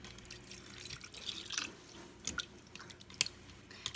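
Water trickles and splashes faintly into a pressure cooker of spaghetti, with small drips and a sharper splash near the end, no voices present.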